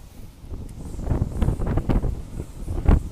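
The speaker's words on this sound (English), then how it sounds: "It's windy outside, isn't it?" Wind gusts outside buffet the microphone in uneven, rumbling bursts that swell and fade, close and moderately loud, with light rustling and no talking.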